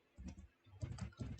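Keys on a computer keyboard clatter in quick clustered bursts, close and fairly soft, as a Linux command is entered.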